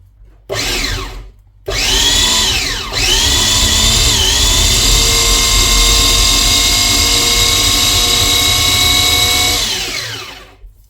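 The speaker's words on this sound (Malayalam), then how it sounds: "രുചികരമായി തേങ്ങ ചുരണ്ടി കഴിഞ്ഞിരിക്കുന്നു." An electric coconut scraper machine grates coconut, a loud close motor whine that starts briefly, stops, then runs steadily with slight pitch dips under load before winding down.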